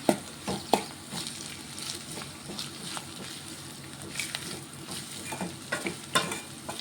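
Bitter gourd fry with onion and green chillies being stirred in a pan, a spoon scraping and clacking in repeated strokes over a steady close sizzle of frying.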